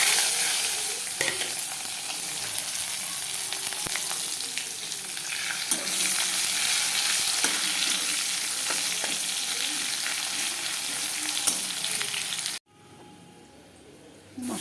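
Bay leaf, cumin seeds and onion fry in hot oil with a steady, loud sizzle, occasional stirring scrapes, cutting off abruptly near the end to a quieter background.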